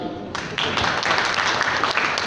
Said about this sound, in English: I think there is no harm in clapping.